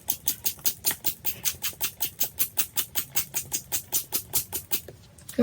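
Water splashes onto wet seed-starting soil in a tray sown with sunflower seeds, close up, in a fast, even rhythm of pulsing splashes that stops near the end.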